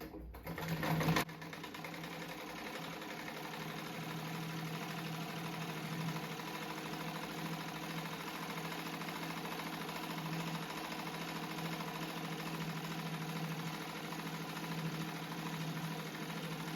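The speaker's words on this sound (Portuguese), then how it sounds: "Agora eu vou costurar essa faixa" A sewing machine runs continuously and steadily, stitching a strip of a patchwork rug made from small fabric scraps, with a brief louder clunk at the start before the even motor drone.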